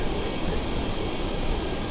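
Steady, dense wind rush roars outside a plane in Microsoft Flight Simulator, loud and unbroken throughout, with no voices.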